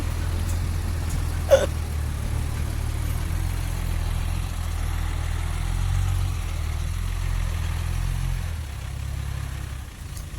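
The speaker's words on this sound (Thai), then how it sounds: "ดูฟังเสียงเทอร์โบนะครับท่านผู้ชม" A Kobelco SK200 Series 10 excavator idles steadily close by, a low engine drone with its turbo whine carried over the top. It loads soil into a large six-wheel dump truck, and the drone drops away near the end.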